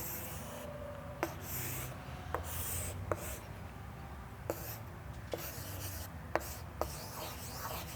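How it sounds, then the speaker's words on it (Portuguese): Pen or marker scratching steadily across paper while drawing the Kabbalistic tree of life, a soft continuous rubbing broken by a handful of sharp taps and pauses, close and quiet with no talk. "vou tentar desenhar aqui para vocês a nossa árvore cabalística"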